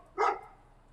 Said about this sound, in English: Oh, the dog is back outside.